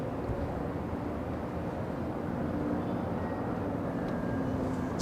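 Asiana airliner rolling along the runway at Los Angeles International Airport, a steady distant jet engine rumble holding at an even level throughout.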